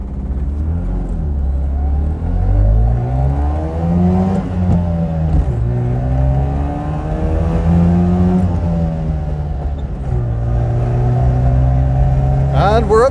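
A 1974 Daihatsu Fellow Max two-stroke kei car's buzzy engine revs up repeatedly from first gear, pitch climbing through the gears and dropping at each shift, loud and close throughout.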